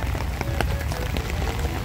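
Rain falls steadily on surfaces outdoors in Baguio City, a dense close patter of drops with no other clear sounds.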